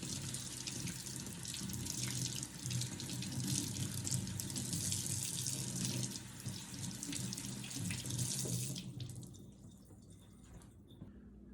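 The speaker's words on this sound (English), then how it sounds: "After you've harvested the turkey tail mushroom, go in and just grab a good handful and give it a rinse" Turkey tail mushrooms rinsed by hand under a running kitchen tap, a steady, close hiss of flowing water into a sink that stops abruptly near the end, leaving quiet room tone.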